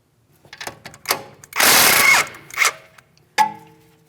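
A camber mounting bolt on a Chevrolet Malibu is tapped out of its splined mount with a few sharp metallic knocks, one longer grinding burst in the middle and a final ringing hit, close and loud.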